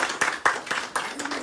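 Rhythmic group clapping at a Hare Krishna gathering, a few sharp, evenly spaced claps in a regular beat, with faint voices underneath.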